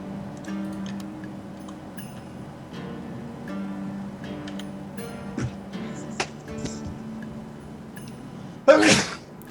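A single sharp sneeze bursts out near the end, loud and close, after several seconds of quiet background ticking and small clicks.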